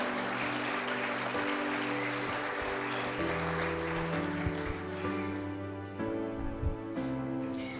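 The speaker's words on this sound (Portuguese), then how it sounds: "Dá uma salva de palmas para Jesus." A church congregation claps for Jesus at a MEVAM service in Nova Friburgo, a steady moderate wash of applause heard alongside sustained music chords, with no speech over it.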